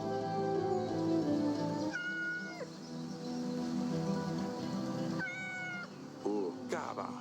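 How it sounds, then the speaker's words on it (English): A pet cat named Dusty in the pixel-art decision game Yes Your Grace lets out two or three short rising meows over a soft background music bed, clear and close. "Cat. Meow."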